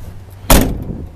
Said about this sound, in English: I'm going to open the passenger door